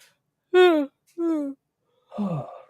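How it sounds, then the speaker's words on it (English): A person lets out a long, drawn-out yawn in two stretched vocal breaths, followed by a softer sighing exhale, close and clear. "Big yawn."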